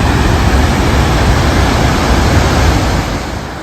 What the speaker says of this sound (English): I hope you can hear the force of the water.